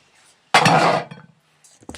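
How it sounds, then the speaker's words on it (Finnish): A Fiskars Hackman Kovanaama Teflon-coated frying pan handled on a kitchen surface, giving one loud close clattering knock with metallic ringing that fades over half a second, followed by a few soft taps. "Mulla on nyt tää Fiskarsin Hackmanin Kovanaama ja teflonpäällysteinen paistinpannu."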